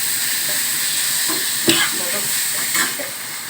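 Onion, tomato, curry leaves and garlic sautéing in a kadai, a continuous hissing sizzle with a few sharp stirring clacks, close and steady without talk.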